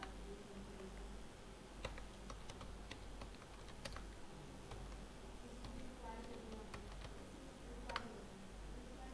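Someone types on a computer keyboard in a word processor, producing very faint, scattered key clicks over a low background hum.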